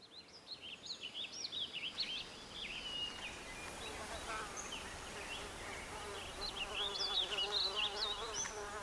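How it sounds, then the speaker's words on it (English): Rock bees swarm densely over a hive on a tall tree trunk, giving a steady, close, droning buzz with birds chirping faintly in the background. "On the trunk of a tall tree, we find a beehive densely covered with rock bees."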